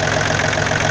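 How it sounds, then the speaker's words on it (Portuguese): Tractor diesel engine idling while it warms up before an oil change, a steady close rumbling chug with an even knocking rhythm, loud and alone. "Vou esperar o motor dar uma esquentada e vou ver o nível do óleo."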